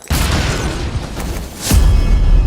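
Loud cinematic explosion effects from a trailer edit: a sustained rumbling blast, then a second deep boom that hits hard partway through and rolls on with heavy low-end.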